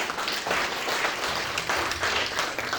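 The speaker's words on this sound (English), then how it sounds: "Can we give him a round of applause?" Sustained applause from an audience at a book launch, a dense steady wash of many hands clapping close and fairly loud throughout.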